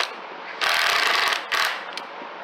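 Screws run down into a wooden subwoofer box for a 10-inch underseat build, two quick bursts of whirring ratchet-driver clicking close up, with a short pause and a faint tap between.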